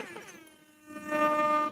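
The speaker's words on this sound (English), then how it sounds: "air horn is too loud." A loud air horn sounds close by, starting with a wavering tone and swelling into a strong sustained blast before cutting off.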